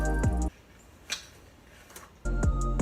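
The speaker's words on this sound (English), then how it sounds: "Now this next sound is the ice cracking" Ice cracking from a kick, recorded raw with no effects: a few sharp, faint cracks between louder rhythmic musical sections at the start and end.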